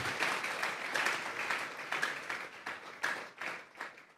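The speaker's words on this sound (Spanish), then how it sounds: "Vamos a regalarle ofrenda de palmas al Dios de la gloria." Church congregation giving a round of applause in worship, steady dense clapping from many hands with a few sharper peaks, moderately close and sustained throughout without talk.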